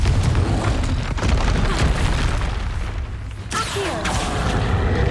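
Confringo blast spells exploding in Hogwarts Legacy combat, a continuous loud wash of booming blasts and rumbling with crackling debris, dense and close with no talking.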